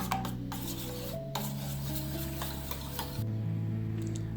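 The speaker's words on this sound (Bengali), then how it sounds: "এর মধ্যে অল্প লবণ দিচ্ছি আর অল্প কর্নফ্লাওয়ার দিয়ে ভালোভাবে ঘোলটা রেডি করে নিচ্ছি।" Two eggs with a little salt and cornflour are whisked into a batter in a bowl, giving a continuous soft rubbing, scraping rhythm against the bowl with faint clinks, close and quiet, no speech.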